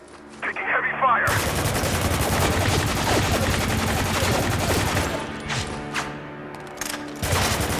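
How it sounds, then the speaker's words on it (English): Sustained automatic gunfire in the video game Spec Ops The Line, dense and loud with rapid bursts that thin out near the end, overlaid with game effects and occasional voices. "Taking heavy fire!"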